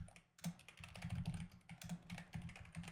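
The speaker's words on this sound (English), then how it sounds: "you guys don't hear the tippy tapping my keyboard" Fingers tap quickly on a computer keyboard in quiet, irregular bursts of clicks, close but soft, with no voices.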